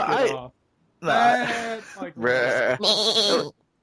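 Sheep bleating in a few loud, wavering calls close by, separated by short silences, the last call higher and more strained.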